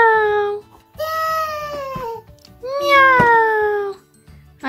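A voice imitates a cat, giving two drawn-out, wavering meows separated by a short pause, close to the microphone.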